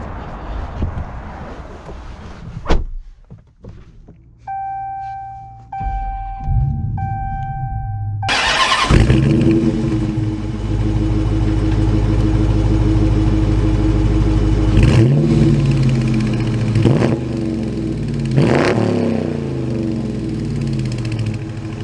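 A Dodge Challenger R/T with a manual gearbox cranks and fires up, settling into a deep idle before revving and pulling away, its engine loud and close with rises and dips as it drives off.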